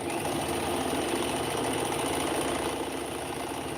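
A sewing machine hums in a steady, even run, stitching fabric for a steek on a knitted piece for a Victorian child's garment, close and constant throughout with no pauses.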